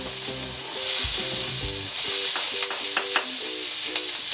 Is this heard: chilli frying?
yes